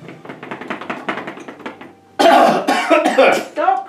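Coughing after eating something that burns the back of the tongue: a quiet stretch of small rhythmic sounds, then loud, harsh, repeated coughs and throat-clearing bursts up close.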